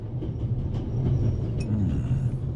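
A train rolls along its rails in a video game, a steady low rumble with faint clattering that continues throughout, no talking over it.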